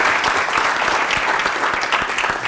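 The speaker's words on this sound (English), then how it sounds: "Can we clap it up?" Applause from a crowd at a high school health care technology pinning ceremony, a loud, dense, even wash of clapping that continues without a break and without speech.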